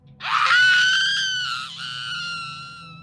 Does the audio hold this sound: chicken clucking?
no